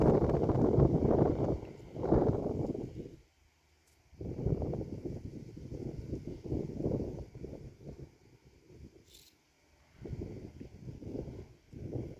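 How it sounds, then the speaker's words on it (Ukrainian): Gusty wind buffets the microphone in loud, rough bursts separated by brief lulls, a low roaring rush that swells and drops. "Вітер дує довбаний."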